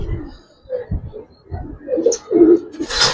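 Old pigeons coo in short, throaty bursts close to the microphone, a few uneven calls across a few seconds with a voice murmuring nearby.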